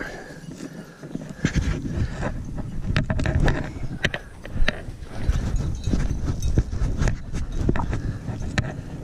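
Horses' hooves clop steadily and unevenly on the ground, several animals walking together along a desert creek, with a light breeze in the background.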